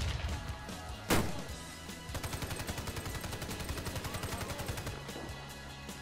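Automatic gunfire in the Warface shooter: a sharp, loud crack, then a steady fast burst of evenly spaced shots lasting about three seconds, heard against a low background of game noise.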